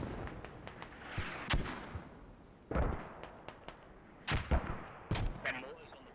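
Mortar fire in the tactical shooter Squad: several sharp booming impacts and blasts, some close and loud, others more distant, spaced irregularly over a rumbling battlefield background.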